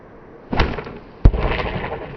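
An arrow is released from a traditional bow at a Port-A-Bull target during backyard bowhunting practice, heard as a soft thump followed by a sharp, loud impact crack about a second later, with no talk.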